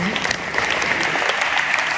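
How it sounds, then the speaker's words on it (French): Dense audience applause fills a hall at an award presentation, a continuous close wash of many hands clapping with a faint murmur of the crowd mixed in. "je vous demande de l'applaudir, s'il vous plaît"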